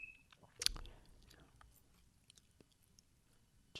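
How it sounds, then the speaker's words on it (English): Quiet, close-up chewing of gum, with one sharper wet snap early on followed by soft, irregular mouth clicks and smacks against a faint background. "Just as it sounds of me chewing gum now."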